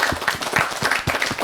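An audience at a national children's award ceremony claps, a short burst of brisk, fairly close applause with no voices.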